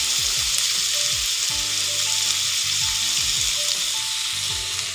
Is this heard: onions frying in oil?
yes